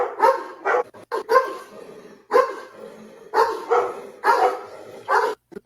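A dog undergoing rehabilitation for aggressive behaviour barks in a string of loud, close, sharp bursts separated by short pauses, alone without talk.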